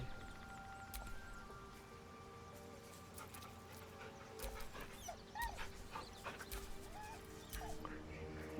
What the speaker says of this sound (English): I can talk to the dog now.